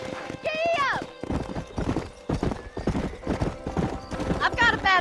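Hooves gallop in a fast clip-clop beneath shouted voices in the Red Dead Redemption game, with a horse's whinny rising at the start and again near the end.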